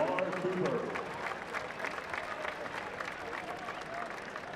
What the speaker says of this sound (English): Have a round of applause for number 58,